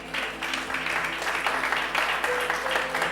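A church congregation applauds during a Spanish-language sermon on the shofar, a dense wash of clapping at steady level throughout, with a faint sustained tone and some voices underneath.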